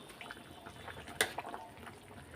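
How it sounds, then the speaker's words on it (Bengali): Katla fish curry gravy simmers in a pan, a faint bubbling and gurgling close by with one brief sharper pop. "এই দেখো ঝোলটা ফুটে উঠেছে"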